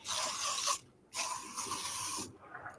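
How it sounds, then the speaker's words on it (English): Bug spray hissed from an aerosol can outdoors in two steady bursts, the second longer, close and fairly loud with no talking. "I'm going to grab the bug spray, and I'm going to spray myself down."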